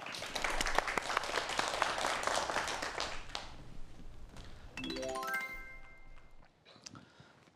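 A studio audience gives lively applause for a lecture on emergency response, filling the first few seconds before it fades and a rising electronic chime sweeps in.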